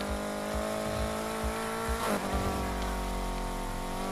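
A race car in Need for Speed Heat drives at speed with a sustained, steady high engine drone and a brief swell partway through, with no talking.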